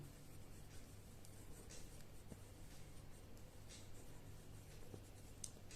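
A pen writes during a maths lesson on direct proportion, with close, continuous soft scratching strokes over faint steady background hum.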